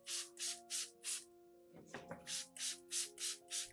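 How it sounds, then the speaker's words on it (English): Trigger spray bottle misting orchid leaves with an orange peel and honey solution, a steady run of short airy puffs in two groups around a brief handling noise, soft and close over a faint musical tone. "When spraying, use a fine mist and focus on both the upper and lower surfaces of the leaves"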